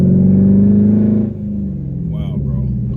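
A Dodge Charger SRT8 with added upgrades pulls hard, its V8 engine droning loud and close before easing off as revs drop, while a person talks over it.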